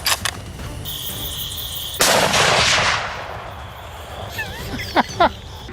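Gunshots from a wild boar hunt crack across an open field at night, a loud blast followed by a long echoing rumble, with insects chirping steadily beneath.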